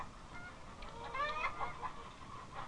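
Chickens on a Georgia broiler farm cluck in a moderate, steady flock chatter, with a few brighter calls standing out near the middle and no one talking.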